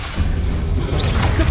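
An Expelliarmus spell cast in Hogwarts Legacy lands as a short booming whoosh with a sharp crack, close and loud over low rumbling game noise.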